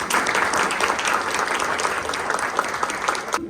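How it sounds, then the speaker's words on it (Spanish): Audience at a forest entrepreneurship panel clapping steadily and fairly loudly throughout, a dense continuous applause with no pauses. "Muchas gracias, un aplauso para Abraham."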